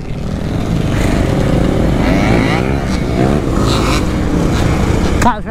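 Quad bike engine running loudly and steadily while riding through city streets in Philly, a continuous buzzing drone with wind noise and a sharp clack near the end, as someone talks over it.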